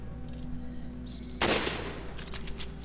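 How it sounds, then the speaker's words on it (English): A burst of gunfire in Resident Evil 5 as bats are shot, one loud sharp blast followed by a quick rattle of shots over a low game ambience. "Resident Evil Busters, you can shoot bats."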